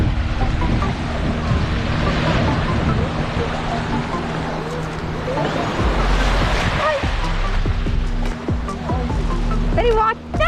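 Ocean surf along Cliff Walk in Newport, Rhode Island, rolls in a loud, continuous wash mixed with gusting wind on the microphone, and a voice is heard at times over it.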